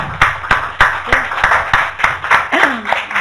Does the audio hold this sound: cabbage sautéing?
no